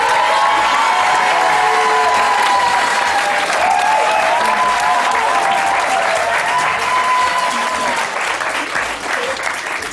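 Studio audience on a French television talk show applauds loudly and steadily, with scattered cheers and whoops. The clapping holds for the full ten seconds, with no speech over it.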